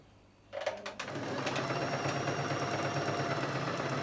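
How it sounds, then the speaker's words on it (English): A sewing machine stitches an elastic band onto a garment waistline, starting up after a brief quiet and then running as a steady, close, mechanical whir with a rapid needle rhythm. "I'm not stepping on the elastic band, I'm just doing my normal sewing."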